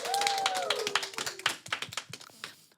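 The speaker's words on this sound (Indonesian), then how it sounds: "tepuk tangan dong, tepuk tangan." A small group claps hands in a loose, uneven burst that thins out and fades over a few seconds, with a voice heard at the start before the claps take over.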